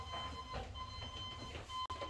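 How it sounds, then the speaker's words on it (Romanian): Faint electronic beeps repeat in a quick irregular pattern, like Morse code, over low background noise. "Cred că auziți și bipăitul pe fundal."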